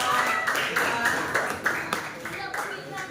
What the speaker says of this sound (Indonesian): ayo kita beri tepuk tangan untuk kelompok